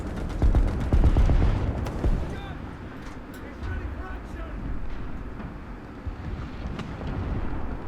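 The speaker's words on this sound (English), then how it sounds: "More arty coming after me." Artillery fire in the video game War Thunder during a Panzer III Ausf. J1 medium tank battle: heavy, deep booming blasts and rumbling impacts with a low engine drone, loud and continuous.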